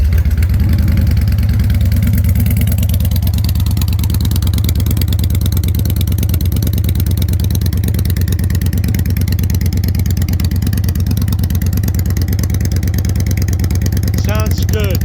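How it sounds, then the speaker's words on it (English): A 2016 Victory Gunner cruiser motorcycle engine, O2 sensors bypassed, idles with a loud, steady, deep rumble close up, holding a constant throbbing beat throughout. "Sounds good. Sounds mean. Healthy motor."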